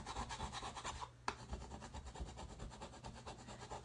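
A scraper dragged across a board to lift off paste, a continuous close rasping scrape with a brief pause and a small knock midway.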